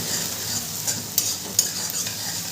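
Chopped onion and green chilies sizzling steadily in a hot pan while being stirred, with a few sharp scraping clicks from the spoon against the pan over a continuous frying hiss.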